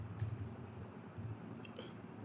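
Computer keyboard keys tapped in quick light bursts, a short run of soft close clicks with one sharper keystroke near the end, no talking.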